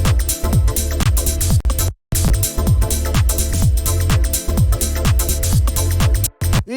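Deep minimal house groove with layered synth pads sustaining over a steady kick and percussion pattern, loud and continuous with two brief dropouts.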